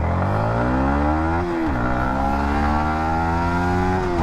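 A Yamaha motorcycle, either a 2023 MT15 V2 or an FZS V4, accelerates hard in first gear during an acceleration test. The loud engine roar climbs in pitch, dips briefly at a shift, then rises steadily again, close to the mic.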